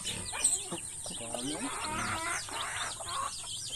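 Chickens and a rooster on a farm, clucking and crowing in a busy, close cluster, with someone talking over the birds throughout.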